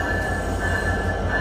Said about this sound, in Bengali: প্রবেশ করছে রাজশাহী থেকে ছেড়ে আসা আমাদের আজকের সফর সঙ্গী আন্তনগর পদ্মা